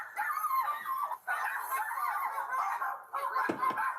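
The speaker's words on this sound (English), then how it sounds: "Go ahead and get the dogs." Dogs yip, bark and whimper close by in excited, continuous bursts with short pauses between them.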